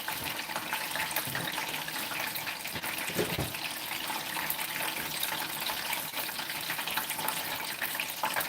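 Chicken wings fry in hot oil with a constant crackling sizzle, close by, and a brief clatter partway through.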